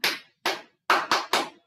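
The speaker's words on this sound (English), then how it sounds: "1, 2, 3, 4, 5. Let's clap." Children clapping hands in time while counting to five: five sharp, close claps, two spaced apart and then three in quicker succession, with no voices over them.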